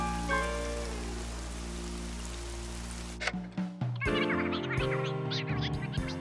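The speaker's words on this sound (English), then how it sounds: "The rain stopped, Charlie Brown." Steady rain falls in an animated cartoon scene, a broad hiss with a tonal musical bed underneath, then breaks off around the midpoint into a sparser stretch of musical stings and effects.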